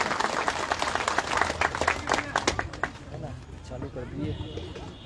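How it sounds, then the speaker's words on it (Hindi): Loud crowd applause welcoming a speaker at an Aam Aadmi Party rally in Ambikapur, dense clapping for about three seconds before thinning out into scattered claps and room noise. "जोरदार तालियों से स्वागत साथी।"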